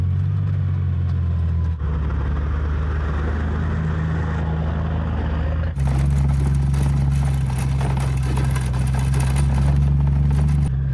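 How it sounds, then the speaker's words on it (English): A big log truck on a road, heard over the continuous loud engine drone of the vehicle following it, a heavy low rumble that steps up in intensity partway through. "Ooh, we got a big log truck coming."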